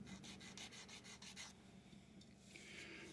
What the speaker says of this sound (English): let me sand you down.